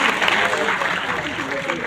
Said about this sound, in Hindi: इंडिया के डायरेक्टर मिस्टर जे मीना के सर का मैं जोरदार तालियों के साथ हार्दिक अभिनंदन स्वागत करता हूँ।